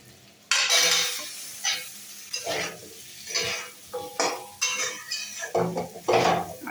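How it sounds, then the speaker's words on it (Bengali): Cut potatoes frying in hot oil with bay leaves, dried chillies and cumin, a steady close sizzle broken by repeated bright scrapes and clinks of a spatula stirring in the pan. "আলুটা আমি ভালো করে ভেজে নেব।"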